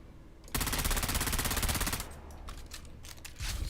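Rapid automatic fire from a basic SMG disruptor in the video game Dune Awakening, a loud sustained burst of rattling shots lasting about a second and a half, then lower combat noise and a short renewed burst at the end.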